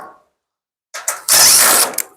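A ratchet clicks as it backs two screws out of the lid of a Samsung dryer, with a short burst of clicking and then a longer, louder steady run of ratcheting close by, with no talk.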